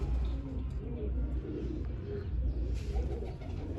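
A pigeon coos with soft, low, repeated throaty calls close by, while faint voices murmur in the background.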